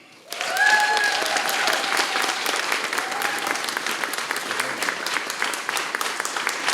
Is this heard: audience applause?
yes